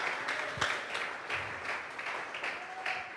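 A church congregation at a Spanish-language worship service applauds as an offering to God, giving a fairly soft, continuous patter of many hands clapping at a distance for about three seconds.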